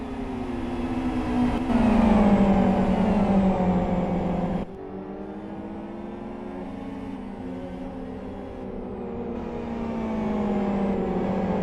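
A race car engine in a racing game pulls out of the pit lane, rising in pitch through gear changes with a brief drop partway, droning steadily and close with no talk over it.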